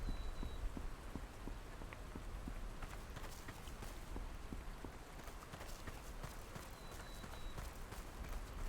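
Steady rain patters in the lawn mowing game Lawn Mowing Simulator, a faint continuous hiss of drops spattering on surfaces with scattered soft ticks throughout.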